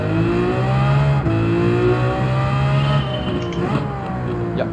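A Lamborghini Veneno with a racing muffler in Gran Turismo 7 revs hard at Suzuka through several gear changes, pitch climbing and dropping in steps, loud and close, then easing off.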